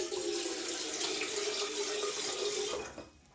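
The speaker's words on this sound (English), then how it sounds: "I'm just going to run some cold water in it." Cold water pours steadily from a camper van tap into a pot, a continuous close hiss and splash that holds even for nearly three seconds, then cuts off as the tap is closed.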